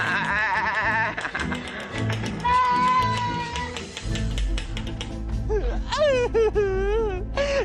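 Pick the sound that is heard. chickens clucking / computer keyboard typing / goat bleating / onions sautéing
goat bleating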